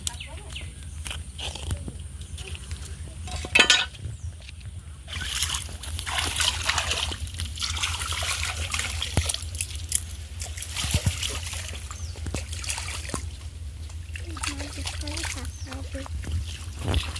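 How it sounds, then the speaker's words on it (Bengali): Hilsa fish being washed and scaled by hand in pond water at a village ghat, with splashes, trickles and sloshing under intermittent talking. "পুকুর ঘাটে গিয়ে মাছটা ভালোভাবে পরিষ্কার করে ধুয়ে নিচ্ছি"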